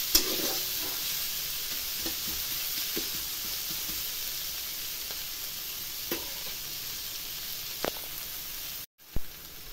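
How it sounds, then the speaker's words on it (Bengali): Chopped capsicum and vegetables sizzle steadily in a hot pan for a semolina dish, with occasional scrapes and clinks of a spatula stirring. A short gap breaks the sound near the end. "এবার আমি 1-2 মিনিট সামান্য ভাজা ভাজা করে নেব।"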